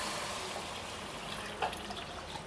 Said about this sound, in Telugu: ఇప్పుడైతే నేను వాటర్ అయితే పోస్తున్నాను.